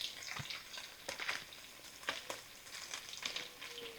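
Butter and all-purpose flour frying in a pan on a stovetop give a soft, quiet crackle and sizzle, with a few faint utensil scrapes.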